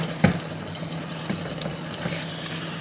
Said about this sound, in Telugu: మునక్కాయలు వేసుకున్న తర్వాత కొంచెం నీళ్ళు వేయాలి దాంట్లో